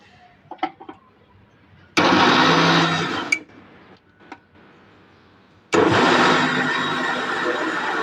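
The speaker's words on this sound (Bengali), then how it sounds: "আমাদের টমেটোগুলো ব্লেন্ডার করা হয়ে গেছে" An electric blender purees tomatoes for tomato sauce. Two loud, close bursts of motor whir each run several seconds and stop abruptly, with brief clatter and handling knocks in the quiet between them.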